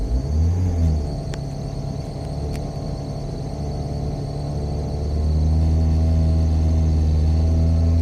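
Opel Zafira 2.0 TDI diesel idling roughly on a cold start with a starting fault, a steady low rumble that climbs to a louder, firmer drone as the throttle is pressed.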